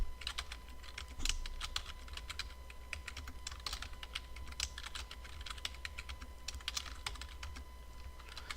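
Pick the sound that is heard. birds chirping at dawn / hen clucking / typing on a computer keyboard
typing on a computer keyboard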